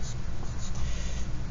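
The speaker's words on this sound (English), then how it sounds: "We've just written our date in digits." A pencil writing a date in digits on paper, a brief run of close, dry scratching strokes with short pauses between the marks.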